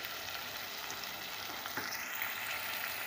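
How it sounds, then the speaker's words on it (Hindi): Mutton with onions and ginger garlic paste frying in a pan, a continuous close crackling sizzle with small pops and occasional stirring, no voices. "साथ ही हम इसमें डालेंगे अदरक लहसुन का पेस्ट।"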